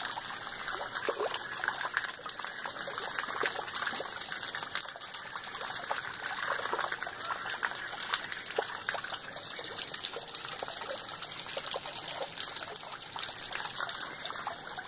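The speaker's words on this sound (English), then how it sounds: "the extra flowing water is being channelized." Extra water runs through a channel beside a wall, a steady, faint gushing trickle that stays even throughout, with no voices.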